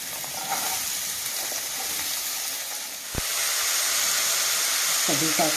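Sesame seeds, cumin and ridge gourd pieces fry in a pan with a steady, loud sizzle, broken by one sharp clank near the middle and a few soft stirring scrapes toward the end.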